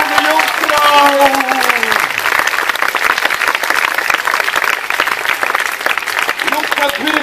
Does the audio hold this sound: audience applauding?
yes